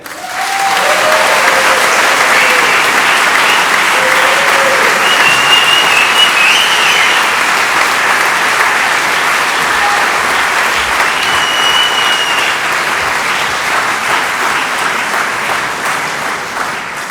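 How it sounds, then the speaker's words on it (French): A large audience at the opening ceremony of the Neuchâtel International Fantastic Film Festival, NIFFF 2016, breaks into loud, sustained applause, a dense roar of clapping that stays strong before easing slightly near the end, with faint whoops. "je vous prie d'accueillir très chaleureusement et sous un tonnerre d'applaudissements la directrice artistique du NIF, Anaïs Emery, et le président du festival, Jean Studer"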